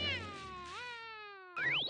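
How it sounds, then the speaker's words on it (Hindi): Cartoon cat from the Doraemon series meowing in a few drawn-out, gliding cries, close and clear, ending in a sharper rising yowl. "वो एक बिल्ली है"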